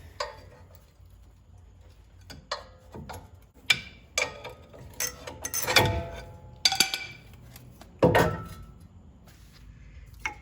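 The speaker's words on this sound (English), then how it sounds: "now we can pop the caliper off" A front brake caliper is pried off a 2015 Ram 1500, giving scattered metallic clinks, ticks and a few louder clanks close by, with quiet pauses between them.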